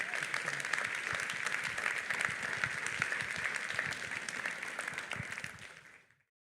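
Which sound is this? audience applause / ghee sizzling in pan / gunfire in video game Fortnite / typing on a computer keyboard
audience applause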